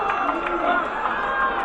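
A rugby match crowd roars after a big tackle, a dense sustained cheer of many voices with a commentator talking over it.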